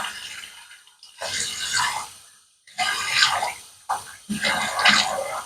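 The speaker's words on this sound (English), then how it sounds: "Let me just get some hot water." Hot water runs from a tap in short bursts, a close splashing gush that starts and stops several times.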